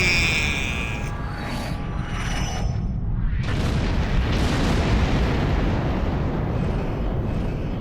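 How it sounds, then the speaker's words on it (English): Torpedo explosions during a starship battle with a Romulan Warbird in Star Trek Online, a rumbling roar that swells into several heavy booms layered over a continuous low drone. "Fire at will. And torpedoes spread up. Boomski!"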